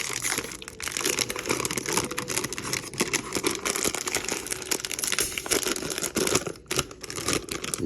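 A Korean snack chip packet is torn open and handled, continuous close crinkling and rustling of the plastic bag, dense and steady with no talking.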